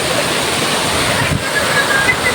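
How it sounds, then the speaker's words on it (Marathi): Heavy village rain and flowing runoff make a loud, steady broadband wash with no voices. "खूप पाऊस आहे इकडे"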